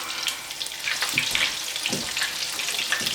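Chicken pieces fry in a pan, giving a steady close hiss and crackle with scattered sharper pops throughout.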